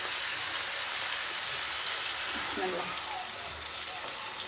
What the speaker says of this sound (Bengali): এখন আমি এর মধ্যে দিয়ে দিচ্ছি ঝোল